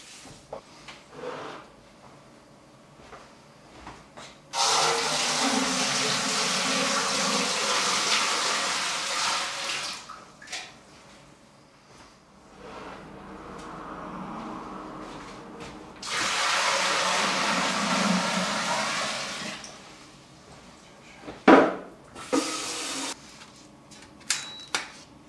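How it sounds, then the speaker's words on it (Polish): Hot water is poured into a home-brewing kettle for beer in two long splashing, rushing pours, fairly close, separated by quieter handling clatter and knocks. "Nalewam od razu do kociołka gorącą wodę, żeby to wszystko szybciej się zagrzało."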